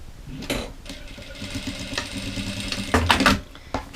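A sewing machine runs in short stitching bursts as fabric for a dish towel is sewn, mechanical whirring with a few sharper clicks and knocks, close by and without talk.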